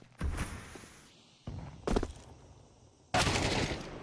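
Gunfire in Counter-Strike 2 during a professional ENCE vs B8 match at the BLAST.tv Austin Major 2025: short sharp bursts of shots in three separate clusters, loud and close, with no commentary over them.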